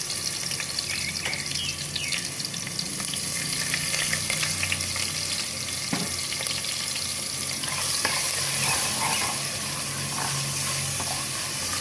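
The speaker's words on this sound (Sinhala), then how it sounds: "ඊට පස්සේ තලාගත්ත ඉඟුරු සුදු ලුණු ටික දාලා චුට්ටක් කලවම් කරගන්න." Crushed ginger and garlic stirred into hot coconut oil in a pan, giving a dense, even sizzle with light stirring clicks scattered over it, heard close up with no talking.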